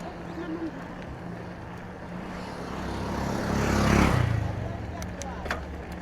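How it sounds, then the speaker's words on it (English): Road traffic rumbles steadily with motorbikes going by, and one vehicle swells to a clear pass around the middle before fading. A voice talks over it near the start, recorded outdoors while cycling. "currently we are picking up all the road noises,"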